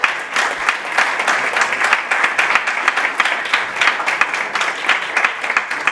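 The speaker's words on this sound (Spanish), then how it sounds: "vamos a hacer un aplauso porque 25 años son muchos" An audience breaks into sustained applause celebrating a school's 25th anniversary, a loud, dense patter of many hands clapping steadily with rapid overlapping claps and little talk.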